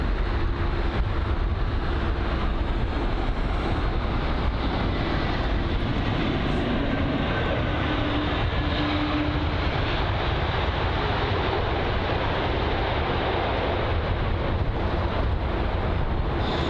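An Aegean Airlines A321neo at London Heathrow produces a broad, steady engine roar across an open airfield, mixed with heavy wind noise buffeting the microphone for the whole stretch.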